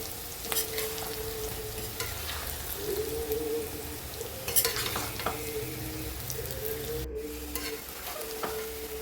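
Garlic, green chili and ginger sautéed on a low flame for nellikka pickle, a soft continuous sizzle with occasional spoon scrapes and stirring clatter, close and steady.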